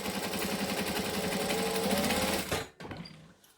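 A sewing machine stitches a pocket with a fast, steady, close mechanical whir and needle rhythm, then stops abruptly, followed by a short burst of softer running.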